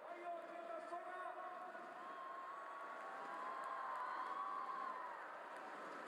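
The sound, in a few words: crowd cheering at SEA Games 2019 steeplechase finish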